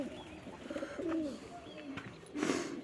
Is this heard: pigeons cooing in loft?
yes